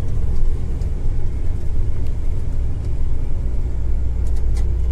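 A car's engine rumbles steadily and loudly close by, a continuous low drone with no talking, during a wildfire in Manavgat.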